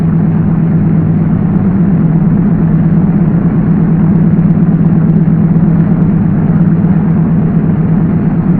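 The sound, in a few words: Douglas DC-3 engines running up at 1,500 RPM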